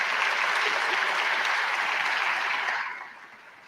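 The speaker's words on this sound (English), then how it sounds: "Ladies and gentlemen, please another round of applause for Minister Ramokgopa." A seated audience at a closing session claps for Minister Ramokgopa in a brief burst of dense, fairly quiet applause that holds steady and then fades out quickly.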